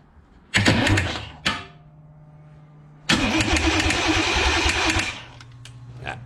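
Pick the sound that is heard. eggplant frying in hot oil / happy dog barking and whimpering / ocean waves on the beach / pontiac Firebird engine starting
pontiac Firebird engine starting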